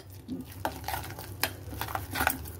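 A besan mixture with salt is stirred in a bowl, giving faint, close scraping and clinking strokes at an irregular pace, with no voices heard.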